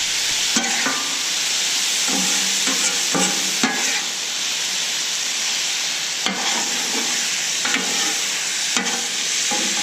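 Sausage, peppers and onions fry on a Camp Chef FTG600 flat-top griddle in a loud, steady sizzle, while a spatula repeatedly scrapes and tosses them in rhythmic bursts, with no speech.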